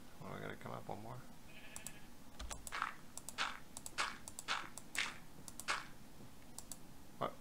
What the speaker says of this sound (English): Obnoxious sheep.